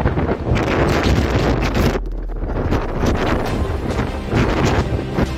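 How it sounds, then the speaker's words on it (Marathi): Strong wind blasts across a bridge at Jaitapur as storm clouds gather, roaring and buffeting hard against the microphone in loud, continuous gusts with only one brief lull. "खूप सोसायटीचा वारा आहे. ब्रिजवर उभंही राहता येत नाही"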